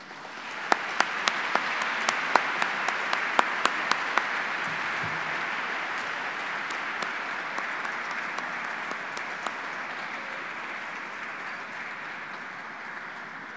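Audience at a formal annual dinner applauding as a speaker is welcomed to the stage, dense sustained clapping from a large crowd lasting the whole stretch, with a few sharper nearby claps standing out early on.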